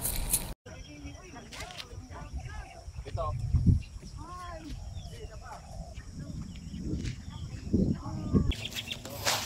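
Birds chirp and call in varied short phrases outdoors, with a person talking over them at moderate volume.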